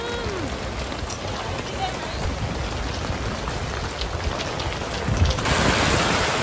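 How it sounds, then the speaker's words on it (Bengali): Heavy rain falls during a storm at an outdoor saree exhibition, a dense steady hiss that swells louder toward the end, with faint voices under it. "বিশাল জোরে বৃষ্টি নেমেছে এখানে"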